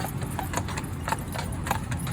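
Horses clop along a trail back toward the Fort Worth Stockyards, hooves striking in a steady, uneven rhythm at moderate distance, fairly faint against light outdoor background noise.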